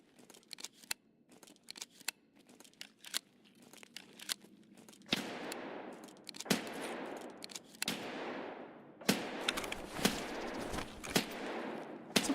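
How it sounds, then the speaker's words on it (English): Gunfire in Escape from Tarkov (SPT) comes as sharp, irregular cracks, sparse and faint at first, then growing louder and denser with bursts and echoing tails, with no talking. "Somebody's shooting at me, but I don't know where from."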